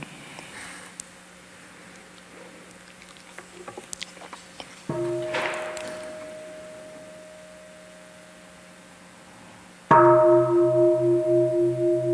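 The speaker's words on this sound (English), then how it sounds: "Let us listen to one sound the bell before we move on to the next point." A meditation bell rings during a retreat talk, struck twice with clear sustained tones that fade slowly, the second strike louder and ringing on with a gentle beating shimmer, over a quiet room.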